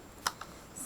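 Numbers tapped into a calculator: two quick, light key clicks, quiet and close, in an otherwise still room.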